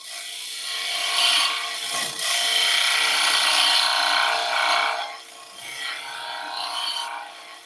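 A small gouge scrapes and cleans the face grain of a wood blank on a lathe, a continuous loud rasping cut that eases and returns in several passes, with no talking.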